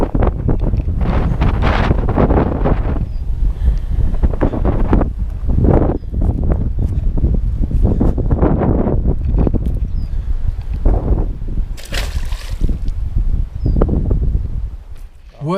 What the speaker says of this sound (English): So the wind is terrible. I apologize for how it sounds.